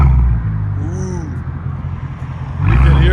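Straight-piped luxury V8 car with AMG tips rumbling nearby, a deep low exhaust drone that eases to an idle burble and then swells into a louder roar at the end; a voice is heard briefly.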